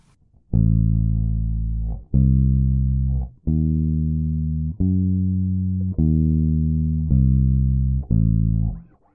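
Electric bass plays a slow ascending then returning diminished arpeggio, six sustained notes each plucked and left to ring, clean and close with no talking.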